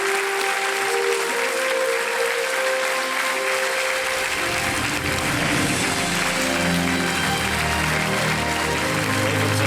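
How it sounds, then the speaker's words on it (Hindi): A large studio audience on the quiz show Kaun Banega Crorepati claps steadily and loudly the whole time, a dense continuous wash of applause that swells slightly partway through. "देवियों सज्जनों, मिस्टर राजेश टच रिवर का तालियों के साथ अभिनंदन किया जाए।"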